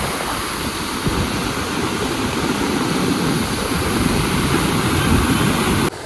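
A natural waterfall at Jamge village with a strong, forceful flow roars loudly and continuously as close, steady rushing water that cuts off abruptly at the end; no one speaks.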